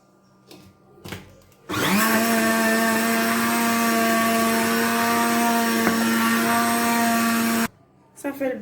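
An electric mixer beats cake batter of mixed eggs, warm water and oil for a two-egg cream-filled cake. Its steady, loud whirring motor runs for about six seconds, with quiet sounds before and after.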